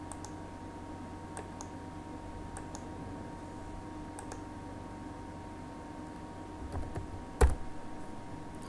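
Someone types on a computer keyboard entering a command at a command prompt. Sparse, light key clicks sit over a steady low hum, with one sharper, louder keystroke near the end.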